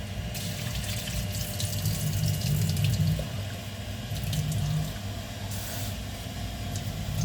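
Squid being rinsed under running water at a kitchen sink while preparing a spicy squid larb, a steady rushing tap flow with faint splashes and clatter, continuous and fairly close, no talking.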